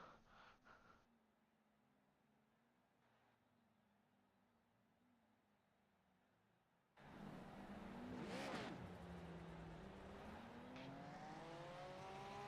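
Safety trucks racing at Watkins Glen in a sim racing game: a faint low engine drone runs for several seconds, then a louder engine cuts in, revving and climbing in pitch as it accelerates.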